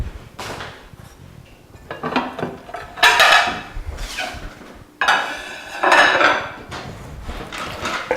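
Plates and utensils clink and scrape as pasta is scooped onto two plates, with irregular bursts of ceramic and metal contact at close range.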